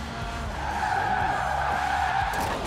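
Car tires squeal in a long, steady skid during a drift, a loud continuous screech held close for a couple of seconds.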